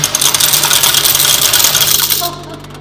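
Coins clattering out of a change machine at a laundromat, a continuous metallic rattle of dropping coins lasting about two seconds, close and loud, then fading into background hum.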